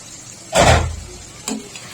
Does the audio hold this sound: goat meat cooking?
yes